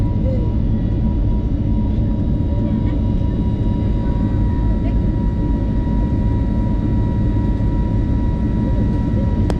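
A passenger airliner taking off westward: a loud, steady engine roar heard from inside, a constant broadband drone that neither builds nor fades over about ten seconds.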